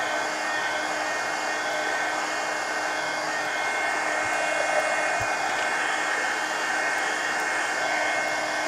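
A hair dryer drying paint on a coloring book page, a steady, loud, close whooshing hum that runs unbroken from start to finish, with no speech.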